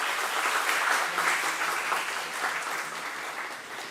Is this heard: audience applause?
yes